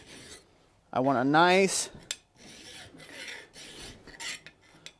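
A steel file rasps across a forged tenon to round it, with a few short scraping strokes and one loud burst of grinding friction, and someone speaks briefly between strokes.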